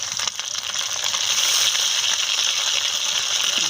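Black cumin, bay leaf and ginger-cumin paste sizzle in hot oil in a kadai, making a loud, steady crackling hiss that holds throughout with faint pops, close up and with no talking.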